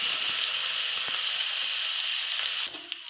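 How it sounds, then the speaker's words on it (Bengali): Cumin seeds, bay leaf and dried red chillies tempering in hot oil make a loud, steady, close sizzle with a few faint pops and a slight dip near the end. "এবার আমি জিরে, তেজপাতা, শুকনো লঙ্কা সব একসাথে ফোড়ন দিয়ে দিলাম।"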